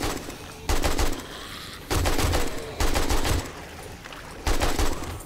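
Bursts of automatic gunfire in the zombie survival game 7 Days to Die, four loud rapid volleys separated by short pauses, with faint background noise between them.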